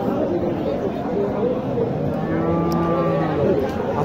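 At a busy cattle market in Naogaon, Bangladesh, a cow lets out a long, loud moo over constant crowd chatter and nearby talking.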